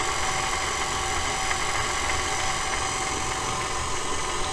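A stand mixer fitted with a dough paddle runs on its stir setting through bread dough, giving a steady motor drone with a rattling, churning texture, close and constant throughout, no voices.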